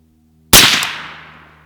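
A single sharp, loud rifle shot from a 300 BLK firing a 120gr Barnes TAC-TX supersonic load outdoors, with a sudden crack followed by a decaying echo tail and no talk.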